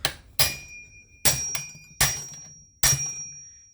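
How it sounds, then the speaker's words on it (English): Four or five sharp metallic taps on the reverse-threaded clutch drum of a Husqvarna 455 chainsaw, each a close, ringing knock spaced about half a second to a second apart, with a faint lingering ring between strikes. "I'm going to give it a few taps"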